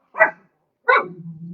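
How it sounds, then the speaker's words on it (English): Two close, sharp dog barks, the second trailing off into a drawn-out whine. "The dogs are barking outside."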